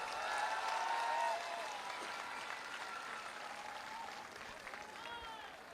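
Loud applause from an audience at the Vijayrath 2.0 motivational event in Agra, a dense clapping swell for the first second and a half that eases into steady, sustained clapping with crowd noise.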